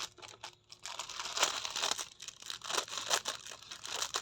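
Plastic packaging around Lebkuchen gingerbread snacks is crinkled and handled up close, with repeated sharp crackling bursts and short pauses between them, heard alone without speech.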